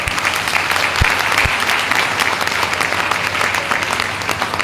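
Loud, sustained applause from an audience of farming families at an AWPL product training session, dense clapping filling the room with a few sharper claps near the start.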